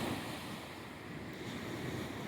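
Baltic Sea surf washing onto a nearly empty winter beach, a steady soft roar of breaking waves mixed with wind buffeting the microphone, with no voices.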